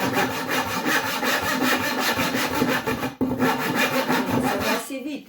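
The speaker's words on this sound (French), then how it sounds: "c'est la scie que j'ai empruntée à mon mari" A hand saw cuts a notch into a wooden stick for a qi gong staff, producing close, loud, continuous rasping back-and-forth strokes that pause for a moment before starting again.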